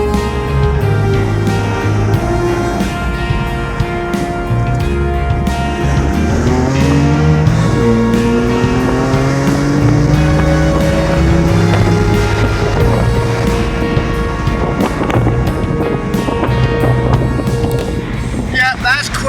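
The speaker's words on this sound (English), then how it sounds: "That was half throttle and we just went instantly up to, what was that? About 100 mile an hour." A BMW M4 accelerating hard at half throttle, its loud engine roar climbing through the revs and filling the whole stretch, with a brief rushing noise near the end.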